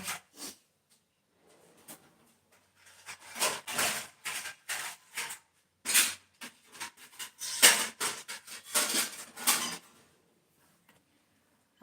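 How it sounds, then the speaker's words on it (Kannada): Metal kitchen utensils clatter and clink in irregular bursts as pots and dishes are set down and arranged, with quiet pauses between. "ಪಾತ್ರೆ ಜೋಡಿಸ್ತಾ ಇದ್ದೀನಿ"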